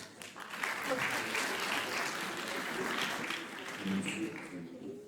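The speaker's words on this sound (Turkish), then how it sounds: "alkışlarla uğurluyoruz onları" Audience at a school festival stage performance applauding, a steady, dense wash of clapping that holds for several seconds at moderate distance, with faint voices mixed in.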